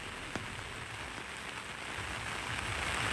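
Heavy monsoon rain pours steadily in Telangana's Dharmapuri area near the Godavari, a dense, continuous wash that swells slightly louder toward the end, with no speech.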